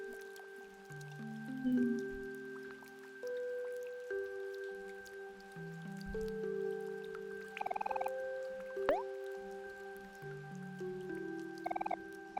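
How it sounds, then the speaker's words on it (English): Rain falling on an umbrella in the video game Omori plays as soft, gentle pattering and dripping over a calm, sustained musical background, quiet and steady throughout. "You remembered the sound of falling rain as it hit your umbrella."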